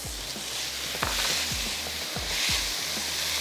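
Noodles and vegetables stir-fry in a hot pan with soy sauce for a spring roll filling, giving a steady close sizzle broken by several sharp scraping tosses of the spatula.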